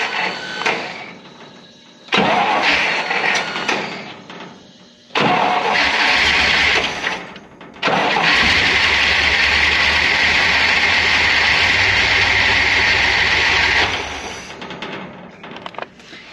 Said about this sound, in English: it acts like it wants to run as long as the starter's engaged